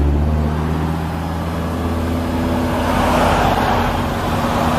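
Road traffic hums steadily around a 2015 Audi R8 V10 Plus, a loud continuous rumble of engines and tyres with low droning tones, nearby and without pause.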